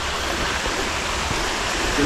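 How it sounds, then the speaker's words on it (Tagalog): Water rushing and babbling along a stream on a Hong Kong trail, a steady broadband wash close by with no clear breaks. "Lagaslas ng tubig."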